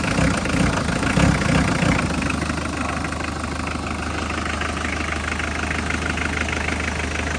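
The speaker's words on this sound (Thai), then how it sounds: "อาจจะ ดัง สนั่นไปหน่อย นะครับเครื่องครับ" An old pickup truck engine idles loudly and nearby in a steady, rough mechanical rumble with a constant low drone. The sound runs unbroken throughout with no speech.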